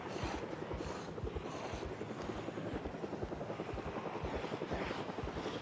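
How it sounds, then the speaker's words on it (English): A helicopter in the video game Project Zomboid thumps overhead with a fast, steady rotor chop, loud and sustained throughout with a broad wash of engine noise behind the beating blades. "No way that was a helicopter, right?"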